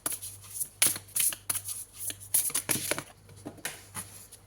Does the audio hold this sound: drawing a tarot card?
yes